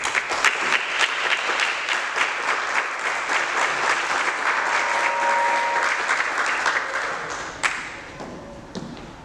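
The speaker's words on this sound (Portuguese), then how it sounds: "As palmas duraram até ali, ó." A live audience at a Sempre um Papo talk event gives sustained, loud applause that holds steady for several seconds before thinning out and fading near the end.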